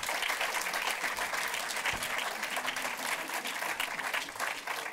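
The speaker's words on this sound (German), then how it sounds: "Den Applaus halten wir durch, bis er vorne ist." A theatre audience at a German film event applauds a magazine's editor-in-chief walking up to the stage, dense sustained clapping from many hands filling the room without a break.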